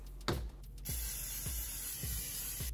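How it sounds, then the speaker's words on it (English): Pam cooking spray hisses from the can in one continuous burst, close and fairly quiet, after a brief click at the start. "Pam, apparently 0 calories, but only if you spray it for a fourth of a second."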